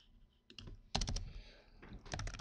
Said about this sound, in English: Now if I come down here and type a little bit more,